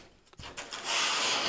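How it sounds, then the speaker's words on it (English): A wire brush is dragged down a wooden board from top to bottom, producing a steady, close bristly rasp that starts with a few short scuffs and then swells into a continuous loud scrape with no talking. "I have this wire brush, and if you take this and run it down from top to bottom"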